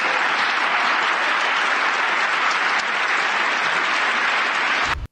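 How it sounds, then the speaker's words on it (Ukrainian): Loud, sustained applause from an audience after a speech at a conference, a dense wall of clapping that continues steadily for several seconds before cutting off abruptly. "залишив трибуну під гучні оплески аудиторії"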